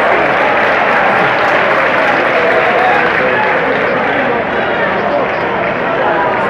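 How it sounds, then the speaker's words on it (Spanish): Stadium crowd at Estadio Bidegain during a San Lorenzo versus Sarmiento football match applauding a player, a dense, loud roar of clapping and cheering that fills the whole stretch without a break. "La gente lo aplaudió a Gordillo."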